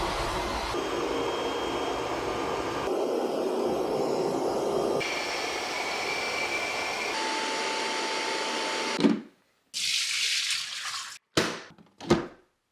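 Water pours into the clean water tank of a Roborock Saros Z70 docking station, a steady close trickle running for several seconds before stopping, followed by a few short splashing bursts and plastic handling sounds.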